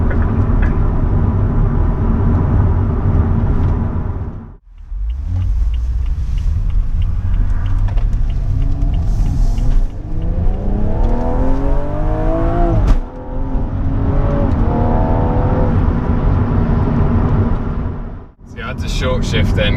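BMW M135i LCI from 2016, heard from inside the cabin, building revs in a rising engine note through the gears, with brief dips at each shift. A voice talks over it throughout.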